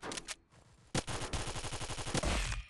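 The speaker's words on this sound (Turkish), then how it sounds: "Sıkıyorum sıkıyorum adamı vuramıyorum." Rapid automatic gunfire in a mobile shooter game, one short burst followed by a longer sustained volley of evenly spaced shots, loud and close with no talking over it.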